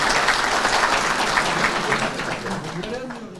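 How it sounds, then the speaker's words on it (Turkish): An audience at a Yörük Türkmen workshop in Antalya applauds to welcome an association chairman to the podium: dense, steady clapping throughout that softens slightly near the end, where a voice rises over it. "şimdi açılış konuşmasını yapmak üzere Antalya Yörükler Derneği Yönetim Kurulu Başkanı Sayın Abdullah Tuman'ı alkışlarınızla kürsüye davet ediyorum"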